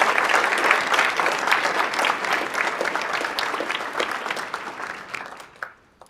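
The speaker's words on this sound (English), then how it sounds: "One more quick quick round of applause for Marshall" Audience applause at a Canine Companions graduation ceremony, a dense round of clapping from a crowd indoors that holds steady and then tapers off toward the end.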